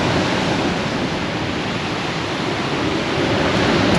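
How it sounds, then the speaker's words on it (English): Large waves break and surge along the Holderness coast at Aldborough in rough seas, a continuous loud roar of surf with no pauses, heard close from the cliffs. "some of the waves coming in, this is massive"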